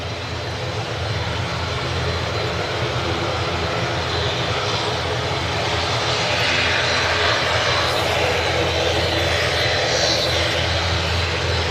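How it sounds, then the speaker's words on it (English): A KLM Embraer E195-E2 jet departs Manchester Airport, its engines producing a loud, continuous broadband roar that builds slightly and holds steady, close by and with no speech over it. "We've got also a KLM on the way out there. It's an E195 E2."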